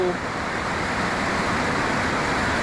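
Creek water rushes steadily beside a hiking trail on Porters Creek, a continuous broadband wash of flowing water heard close and even throughout, with no other clear sounds.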